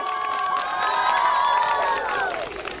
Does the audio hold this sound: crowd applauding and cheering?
yes